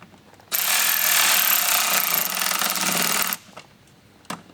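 A power tool driving Phillips head screws into rally-style mud flaps on a 2022 Rivian R1T pickup, one loud, steady buzzing whir lasting about three seconds, then a couple of faint knocks.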